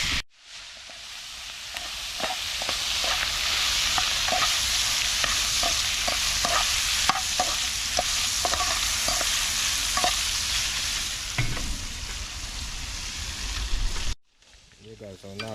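Shrimp sizzle loudly in a pot as a utensil stirs them, with steady frying hiss and repeated scraping knocks for about fourteen seconds before it cuts off abruptly.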